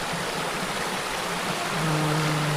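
Spring water pours from pipes into a pool in Kalawan, Laguna, making a continuous close rushing splash with a faint low hum joining near the end.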